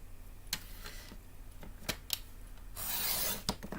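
Paper trimmer blade rasping across a piece of cardstock in a stamping craft session, several sharp clicks and a longer scraping cut, close and moderately quiet with no talking.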